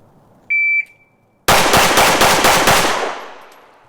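A Sig Sauer P365 Fuse pistol fires six rapid shots at a USPSA target from seven yards, sharp, close and evenly spaced, after a short timer beep, with the echo fading afterward.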